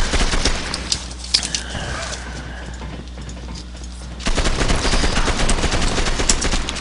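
Rapid pistol gunfire in a shooter video game, bursts of sharp shots in quick succession that grow denser and louder toward the end, with no talk over them.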